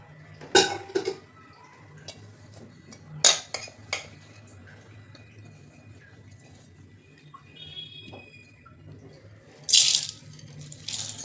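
Urad dal being rinsed in water in a metal pot, with a few sharp clinks and clatters of the pot and utensils standing out over a faint background hum, and quieter splashing between them.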